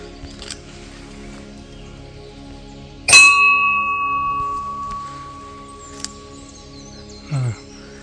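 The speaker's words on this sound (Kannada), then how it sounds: "ಗಂಟೆದು ಸೌಂಡ್ ಕೇಳಿ ಹೇಗುಂಟು ಅಂತ" An old bell at a small forest Ganapati shrine is struck once, ringing out loudly with a long, slowly fading metallic tone that dies away over several seconds. Faint outdoor sounds surround it.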